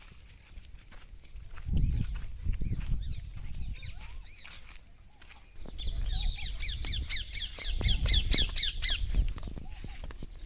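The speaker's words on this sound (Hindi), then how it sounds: "बहुत सारे तोते हैं यहाँ पर।" Many parrots squawk in a chorus near a hillside resort viewpoint, the harsh repeated calls building from scattered cries to a dense, loud burst in the second half, with footsteps and low rustling underneath.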